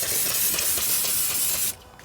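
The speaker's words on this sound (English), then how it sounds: "We'll take a little brake clean, spray it down, and wipe it off" A continuous hissing spray from an aerosol can of brake cleaner on a Jeep Liberty brake part, loud and close, cutting off abruptly near the end.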